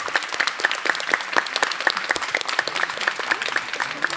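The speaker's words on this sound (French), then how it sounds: "On peut applaudir les formateurs d'ailleurs," Applause for the trainers at the Nantes final of the Ma thèse en 180 secondes contest: a steady run of distinct, fairly regular claps, close and moderately loud, lasting the whole stretch with no talking.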